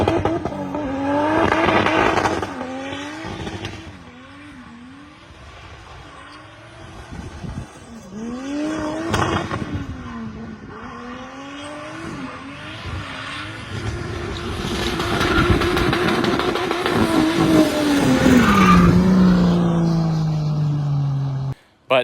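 Drift cars skid on an old go-kart oval track, tires squealing in long sweeping waves as engines rev and pass, loud and up close, with voices talking over parts of it.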